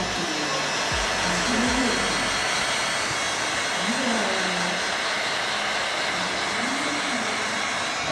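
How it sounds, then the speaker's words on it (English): A heat gun blasts a continuous loud, close rush of hot air while shrinking film on a Corvette back window, with a few faint low tonal swells beneath the steady hiss. "Notice how I'm holding the heat gun."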